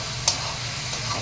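A spoon stirs ground coriander and cumin into a bottle gourd curry as it sizzles steadily in the pan, with one sharp utensil clink early on.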